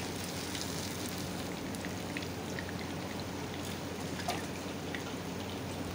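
Fish sizzling as it fries in hot oil, a steady dense crackle and spatter with scattered sharper pops, continuous and fairly close throughout.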